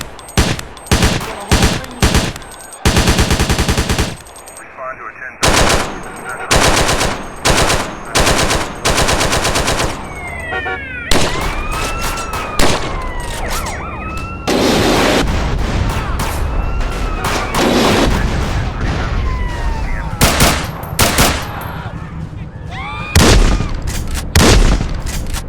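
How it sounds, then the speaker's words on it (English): Remastered weapons in GTA San Andreas fire in loud, close bursts of automatic gunfire and sharp single shots, with heavier booming blasts, tight repeated volleys and short gaps between them. "it even comes with new weapon sounds like this"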